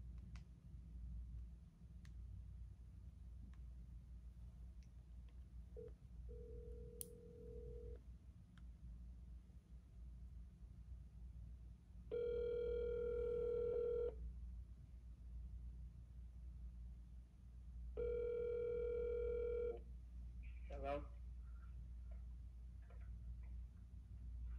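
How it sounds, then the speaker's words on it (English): An outgoing call to a county correctional facility line is placed, with faint clicks and ticks, then two long buzzing ringback tones several seconds apart over quiet background hum. "I'm going to try to call this phone."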